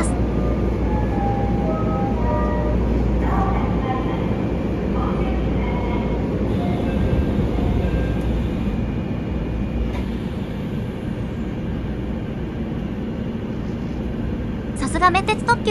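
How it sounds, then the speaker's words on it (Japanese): Meitetsu limited express train pulling into Toyohashi Station, with a low, continuous rumble of wheels and motors, faint tonal station chimes or signals, and a sharper metallic clatter near the end, under a busy platform ambience. "少し遅れて、名鉄線の特急が豊橋駅に到着しました"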